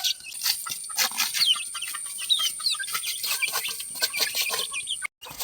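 Eight two-month-old Aseel cross chicks, four white and four brown, peep and cluck in a steady, close cluster of short chirps, with a brief pause near the end and no talking.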